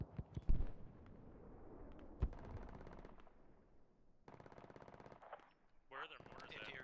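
Infantry gunfire in the video game Squad, with sharp single shots and rapid machine-gun bursts at varying distances, the closer rattles loud and the farther ones muffled, while someone talks over the fighting.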